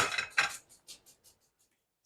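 A few light clinks and clatters of dishware as a plate is taken out in a kitchen, a louder scrape near the start, then scattered softer taps fading toward quiet.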